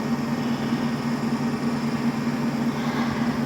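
A washing machine runs steadily in the background of a home kitchen, giving off a low, constant motor hum with a faint whirring noise over it and no clear talk on top.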